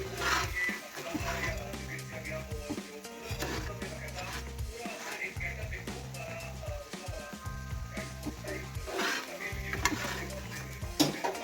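A paratha cooking in a home kitchen pan, with a steady sizzle and frying crackle running throughout, broken by stirring and clinking of utensils against the pan, near and moderately loud with no one speaking.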